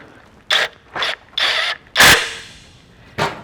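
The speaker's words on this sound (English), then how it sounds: "Take your 5/16 nut driver on your impact and just secure it down." Impact driver fitted with a 5/16 nut driver securing a bolt on a Werner LevelSafe Pro ladder accessory, giving several short, loud mechanical bursts in an uneven rhythm, close by and without talk.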